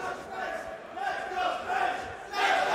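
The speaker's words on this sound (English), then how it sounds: "Knife rallying up the Dutch side, wanting to hear those cheers." Dutch supporters cheer and shout at a Super Smash Bros. Ultimate tournament in France, a sustained crowd roar with voices rising in waves and swelling louder near the end.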